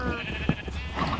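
A blue sheep in Minecraft Java Edition 1.14.4 bleats once in the middle of steady background game ambience, at moderate volume and without any talking.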